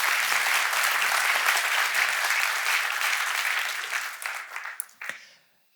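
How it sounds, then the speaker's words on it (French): Audience applause at a public presentation of ecological transition projects in Gland, a dense, steady wash of clapping that thins out and fades toward the end, with a few last claps. "on vous applaudit"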